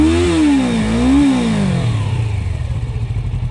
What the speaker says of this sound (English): I bet you that right there was the highest it's ever been revved